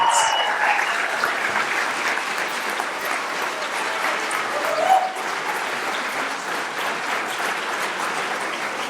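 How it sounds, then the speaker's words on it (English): An audience claps after the argument at the Ames Moot Court Competition, a sustained, even wave of applause in a hall with a few brief sharper sounds cutting through, voices faintly present underneath. "Round of applause."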